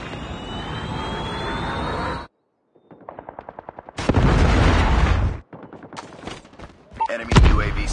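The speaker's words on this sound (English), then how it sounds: "Friendly Predator missile inbound." Predator missile strike in a Call of Duty match, heavy blasts and roaring bursts between rapid automatic gunfire, loud and close, with a brief silent gap and staccato firing in between.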